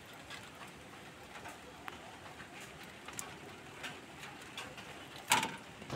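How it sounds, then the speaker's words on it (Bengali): Small Australian diamond doves kept as caged birds, soft faint coos over a low hiss of background noise, with a brief louder rustle or knock near the end. "এই হচ্ছে আমার অস্ট্রেলিয়ান ঘুঘু"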